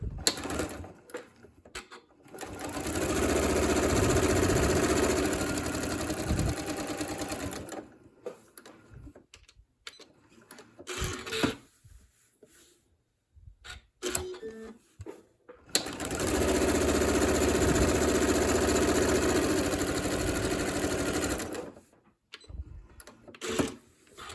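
A sewing machine runs in two long, steady bursts as it stitches a 1/4 inch seam around two stacked quilt blocks for framed pinwheel half-square triangles, with short quiet pauses and handling noises between the runs.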